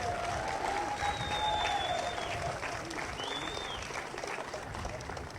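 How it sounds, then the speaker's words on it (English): Crowd applause at the Leonard Williams Justice Center naming ceremony honoring Mr. Guy, steady sustained clapping from a sizable audience with a few cheers and whistles rising above it, holding at an even level for several seconds. "Let's give Mr. Guy a round of applause."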